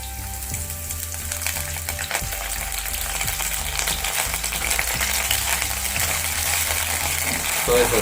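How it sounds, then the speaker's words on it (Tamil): Basil prawn pepper ingredients fry in a hot pan with a loud, continuous sizzle, occasional stirring clatter and steady hiss, with soft background music. "இதை ஒரு நிமிஷம் ஃப்ரை பண்ணுங்கள்."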